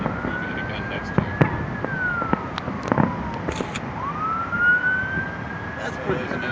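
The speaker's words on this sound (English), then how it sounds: "Is that an ambulance coming down the line there?" An ambulance siren wails along Interstate 5 southbound in Seattle on a July 4 fireworks night, its distant tone sliding up and down while scattered firework pops and bangs sound around it.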